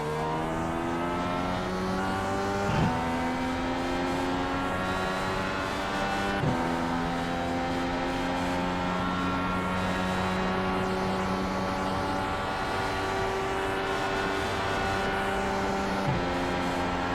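Racing engines roar continuously in an iRacing IndyCar race at a Las Vegas oval, pitch rising steadily then dropping sharply at each gear shift, loud and close with no talking.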